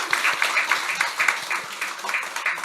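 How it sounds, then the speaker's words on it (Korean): A church congregation applauds its choir during a Sunday service, many hands clapping in a lively, slightly rhythmic patter that fills the room continuously and without any voices. "그 수고 다시 우리 격려하며 박수하겠습니다"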